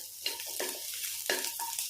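Garlic and ginger sautéing in a pan for kulambu, a bright continuous sizzle with two or three rhythmic stirring scrapes of a spoon, close and steady.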